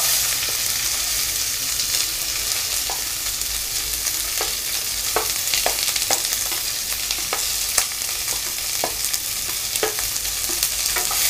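Onions with chopped green chillies and curry leaves sautéing in a pan for country chicken gravy, a continuous loud sizzle with scattered scraping stir strokes, close up, no voice.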